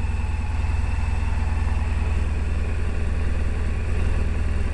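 A TLT-24 Silverwing engine idles close by, a loud, steady low rumble with a fast regular pulse and mechanical chatter over it, unchanging throughout.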